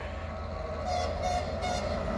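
A train passing in Slovakia rumbles steadily and close, with loud sustained horn-like tones rising over the rolling noise.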